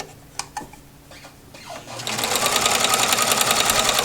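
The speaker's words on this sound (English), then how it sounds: "I have a love-hate relationship with overlock machines" Overlock serger machine sewing light sundress fabric from a vintage 1970s McCall's 8258 pattern: after a few faint clicks and handling noises, a steady fast mechanical whir starts up at close range and runs continuously to the end.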